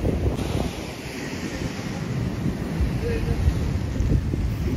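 Rough, foaming sea surf on a beach in monsoon weather, a continuous broad roar of breaking waves with heavy wind buffeting the microphone throughout, steady and close.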